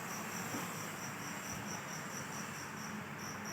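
A bee swarm moving into a tool storage area makes a steady, pulsing insect hum that carries evenly throughout, with no voices.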